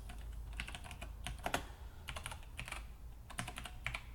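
Command typed on a computer keyboard in a command prompt window, a quick series of close, crisp key clicks in bursts separated by short pauses, with no talking.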